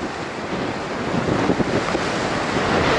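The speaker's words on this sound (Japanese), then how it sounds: "風強い" Strong wind roars across a rocky seaside headland near Takanozaki Lighthouse in Imabetsu, buffeting the microphone with a dense, loud rush as surf churns beneath, continuous and unbroken.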